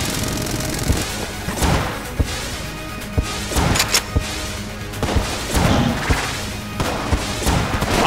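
Gunfire in the video game Enter the Gungeon: sharp shots crack out at irregular intervals over a busy, layered game soundscape, some in quick clusters, mid-loud and close.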